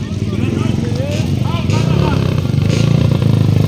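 Motorcycle circling at a motocross show in Bukidnon, a rough revving engine passing amid crowd chatter, with speech and clatter over the top throughout.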